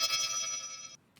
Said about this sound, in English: So what kind of sounds can we actually make with Collision?